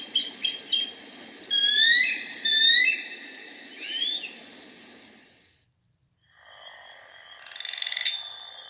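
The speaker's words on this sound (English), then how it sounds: "Frogs." Frogs calling outdoors in a wild setting: several raspy croaks and chirpy trills over a low ambient hum, with short quiet gaps and a brighter burst of calls near the end.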